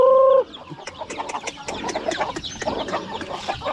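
Several chickens clucking close by in a busy, overlapping chorus, after a brief steady electronic tone at the start.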